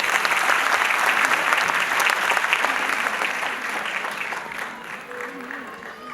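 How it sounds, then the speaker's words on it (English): Applause from an audience at a school annual day prize-giving fills the clip, steady at first and then gradually fading as a pre-primary prize winner is called up. "Clap for her."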